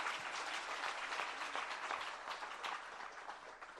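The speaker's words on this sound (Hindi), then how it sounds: "जरा तालियां बजा दीजिएगा।" A seated audience at a Jain religious discourse in Agra applauds, a continuous patter of many hands clapping, fairly soft and distant, with no speech over it.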